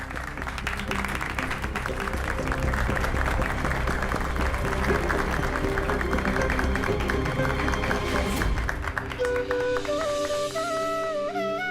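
A crowd at a retirement gathering breaks into sustained applause, dense clapping that carries on for several seconds before fading as music and other sounds take over.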